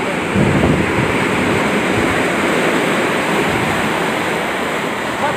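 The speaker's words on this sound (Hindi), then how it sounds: "आ वेखो छल्ला मारदा पानी" Water gushing through an opened channel gate on farmland, a loud continuous roaring rush close to the microphone with some wind buffeting, steady from start to finish.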